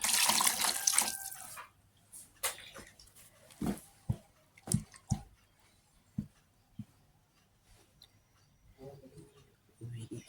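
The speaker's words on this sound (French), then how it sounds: "Je vais encore y ajouter de l'eau." Water pours in a broad, rushing burst for the first second or so while Cameroonian koki is being cooked, followed by scattered close clicks and knocks of kitchen handling.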